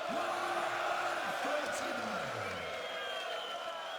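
A packed darts crowd at the 2015 PDC European Darts Championship semi-final applauds and cheers a 136 checkout. The roar is broad and steady throughout, with someone commentator talking over it.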